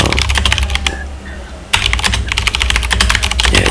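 Rapid typing on an Akko tenkeyless mechanical keyboard fitted with white-on-black keycaps, crisp close clacks in dense bursts with a brief quieter pause midway.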